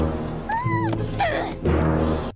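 A voice imitating a strained grunt of lifting something heavy, delivered as a few close, loud, wavering vocal bursts that rise and fall in pitch, with a held strained tone at the end.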